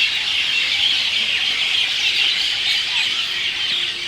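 A dense chorus of bird calls fills the air in a village, with high chirps and squawks overlapping continuously and no talking.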